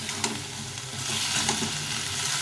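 Fish curry paste frying with salt and turmeric, a thick close sizzle with occasional stirring scrapes, unbroken by speech.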